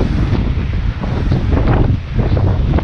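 Strong wind buffeting the microphone with low rumbling gusts on the deck of the SS Badger ship crossing Lake Michigan, over the broad rush of open water, loud and continuous.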